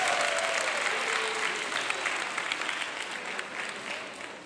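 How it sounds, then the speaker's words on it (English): Roughly 400 people at a Somali community heritage event applaud together, a dense wash of clapping that gradually tapers off. "round of applause to Somali community"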